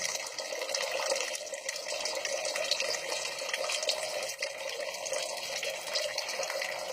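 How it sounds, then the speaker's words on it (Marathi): Water pours steadily from a vessel at a temple, a continuous broadband splashing stream that runs unbroken and fairly loud throughout, with no voices. "आता पूर्ण भांडं रिकामं होईल तोपर्यंत हे सगळं पाणी आहे तसंच पडत राहील"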